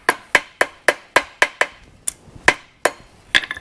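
A blacksmith hammers a forged chain link flat: about a dozen sharp, ringing metal strikes land close and loud in a steady rhythm that slows and loosens toward the end.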